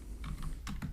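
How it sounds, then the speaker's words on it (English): Rapid typing on a computer keyboard while entering code, a quick run of close, crisp keystrokes in uneven bursts over a steady faint background, with no one speaking. "here I will type"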